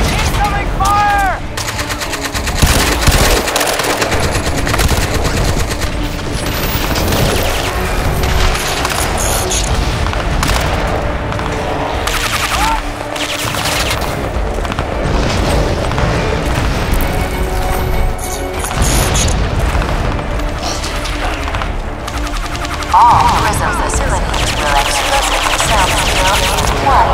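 Crysis 2 combat with dense, loud gunfire, machine-gun bursts and booming explosions that continue without a break, while voices shout over the battle.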